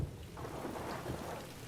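Soft, steady rain hiss with a low rumbling undertone plays faintly and continuously in the video game Beast of Reincarnation, with no voices.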